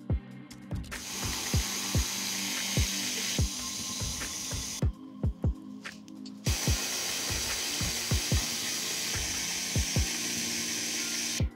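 A stand mixer beats eggs and vanilla into pound cake batter, a steady mechanical whir with repeated knocks and clicks of the beater against the bowl, running continuously and close with two brief pauses.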